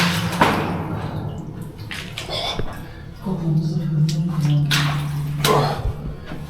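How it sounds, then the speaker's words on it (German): Heavy water pours down onto stairs in a flooded passage beside a wooden ladder, a continuous rushing splash running under nearby voices talking throughout. "Da kommt da so richtig massiv Wasser runter."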